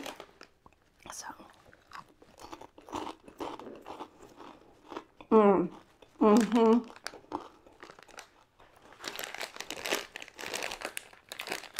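Crispy caramel cinnamon corn puffs come out of a crinkling snack bag, with scattered crinkles and then loud close bites and crunchy chewing, and a brief spoken word at the start.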